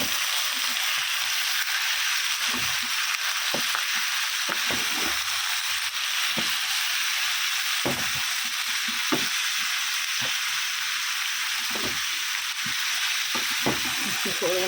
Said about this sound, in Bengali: তো তরকারিটা বসিয়ে দিলাম, টমেটো দিয়েছি, মসুরির ডাল দিয়েছি